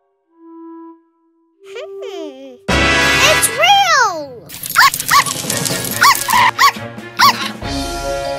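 A cartoon dog from a children's show about the Cry Babies barks several times in quick, loud yips, with lively child-like voices and music around it.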